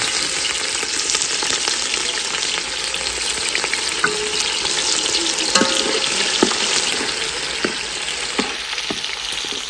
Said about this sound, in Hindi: घी गरम हो चुका है, प्याज मेरा ऐड हो रहा है